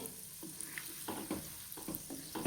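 Gulab jamun fry in hot oil with a soft, steady sizzle, quiet and close, with a few light stirs and bubbling pops.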